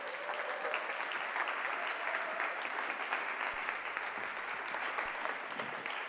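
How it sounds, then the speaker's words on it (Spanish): A seated audience at a Metadecidim conference gives steady, sustained applause, an even wash of many hands clapping at moderate distance, unbroken for several seconds with no speech over it. "Aplaudiments."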